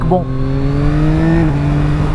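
A 2024 Yamaha MT-09 motorcycle with an Akrapovic exhaust holds a loud, steady engine drone that dips slightly in pitch partway through, with a brief spoken word at the start.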